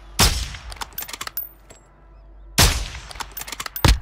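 Video game gunshots ringing out loud and close, one sharp report followed by a scatter of smaller cracks, then a second heavy shot and more trailing cracks after a brief lull.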